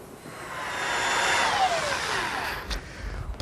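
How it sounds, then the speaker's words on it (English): Plate joiner cutting a biscuit slot in wood for a shelf bracket: a loud motor whine spinning up and holding, then easing off with a brief clatter as the cut ends. "I made a slot with my plate joiner for a biscuit"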